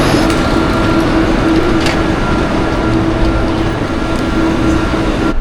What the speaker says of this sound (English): And here is the train already.